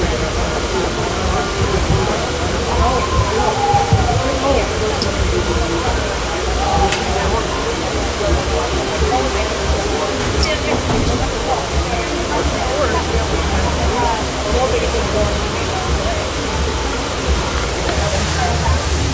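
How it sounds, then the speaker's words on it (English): Steady roar of surf and breaking water at Breakwater Beach in Seaside Heights, loud continuous broadband wash with wind-like rumble, with voices faintly audible during an outdoor Law Enforcement Survivors Day event. "All I hear is water."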